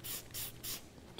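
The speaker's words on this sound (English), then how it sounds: "Spray that down, get your glass cleaner applied to your applicator" Three quick hissing bursts of glass cleaner from a handheld spray bottle onto an applicator, evenly spaced and fairly close, with a fourth starting at the end, over a low background hum.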